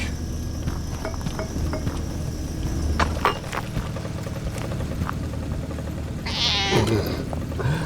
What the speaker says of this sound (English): I'm gonna have to take care of my cat for a second.